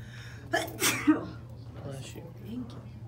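A single sharp human sneeze near the start, followed by a short, quiet voice and some faint breathy sounds over a low steady hum.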